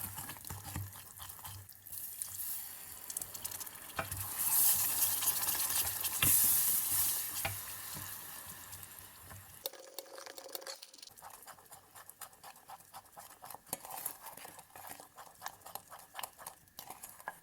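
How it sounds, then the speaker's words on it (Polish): Chocolate glaze of sugar, cocoa and milk being stirred vigorously in a pot, a steady wet scraping and slushing that runs continuously, close and fairly loud, with a soft sizzle beneath. "Całość energicznie mieszam i dodaję z jedną, dwie łyżki mleka"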